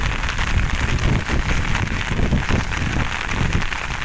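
Steady rain pours down outdoors on a farm, a dense, loud hiss of drops on surfaces that fills the whole stretch without pause.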